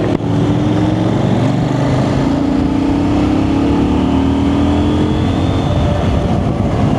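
A CF Moto 800NK motorcycle ridden in street mode, its engine droning steadily and loud with a slowly rising pitch as the throttle rolls on, mixed with continuous wind rush and no talking.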